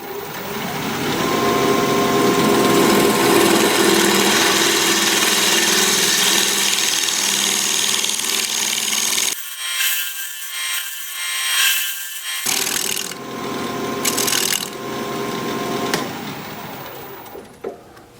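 Apple wood spinning on a lathe at 1100 RPM, with a gouge steadily cutting and scraping in a continuous loud rushing hiss, interrupted by a few seconds of near silence before the cut resumes.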